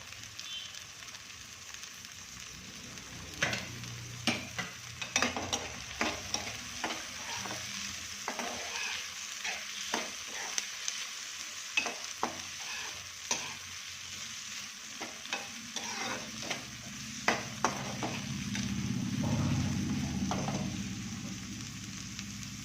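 Beans hiss and crackle as they stir-fry in a pan at a home stove, with frequent irregular clicks and scrapes of a spatula and a fuller surge of sizzling toward the end.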